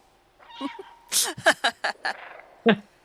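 A cat meows in the video game Stray, a quick series of short, close, bright meows and chirps with brief gaps between them.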